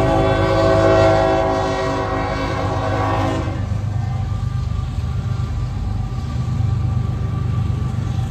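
A loud Union Pacific freight train horn blares for a few seconds over the heavy rumble and rattle of the passing northbound ethanol train in Magnolia, Texas, which continues alone after the horn stops.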